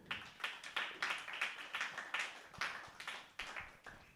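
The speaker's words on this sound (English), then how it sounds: "give a round of applause to Luke" Small studio audience at a live music discussion clapping in a sparse, irregular round, each hand clap distinct and fairly quiet.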